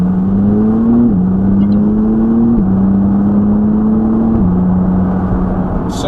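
Steady engine drone of the cheapest McLaren sports car, heard from inside as it accelerates, pitch climbing through several gear changes; loud and continuous with no talking.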